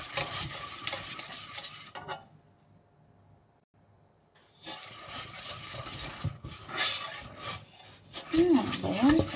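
Homemade play dough being stirred and kneaded by hand in a bowl, a scraping, rubbing texture in bursts with a quiet pause in the middle, close and fairly loud.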